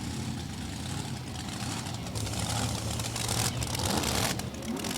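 Top-dragster engine with nitrous injection, a large 845-cubic-inch racing motor at a drag raceway, roaring steadily and loudly for the whole stretch with a dense, rough low rumble and broad noise.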